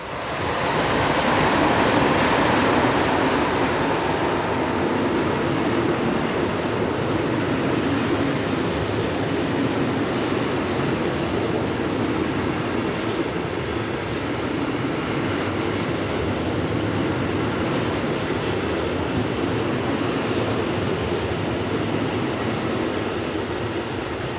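A DB Class 139 electric locomotive hauls an eastbound train past on the Hannover–Magdeburg main line in the early evening, a loud continuous rumble of wagons rolling by close at hand with faint wheel clatter, no voices.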